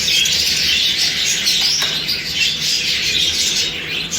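A dense chorus of budgerigars chirps and chatters continuously in a breeding room full of young birds, loud and close, with no talking.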